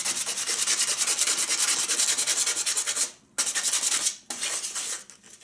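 Sandpaper on a sanding block scuffs varnish in fast, steady back-and-forth strokes, close and loud, with two brief pauses near the end.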